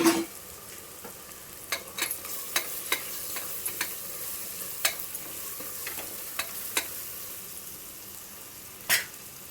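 Beans, carrots and boiled dried peas sautéing in a pan for vegetable biryani, with a steady sizzle and sharp, irregular scrapes and taps from a stirring spatula, close and clear, no voices.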